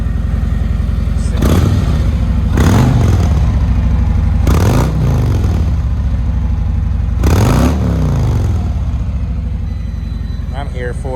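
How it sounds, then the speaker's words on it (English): A 2020 Harley Road Glide Special, bought wrecked, revs in four loud, close throttle blips, each rising and falling over a steady lumpy idle, with someone talking between the revs. "Get a little vroom action"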